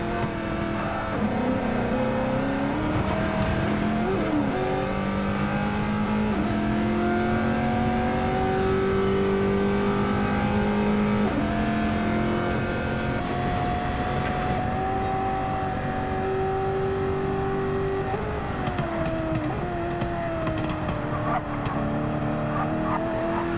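Camaro V8 supercar in Gran Turismo 7 roaring loudly and steadily through an endurance race, revs rising and falling with gear changes, a brief tire squeal amid the continuous engine note.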